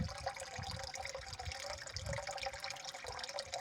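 Water from a tubewell pouring steadily into a bucket, a continuous close splashing rush without pause and no voices.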